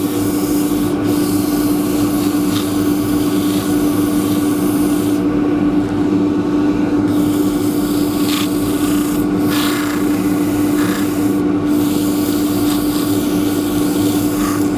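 A wooden natural-edge bowl is sanded with 180 grit sandpaper, giving a steady, continuous abrasive rasping hiss that stays close and loud throughout, with no talking.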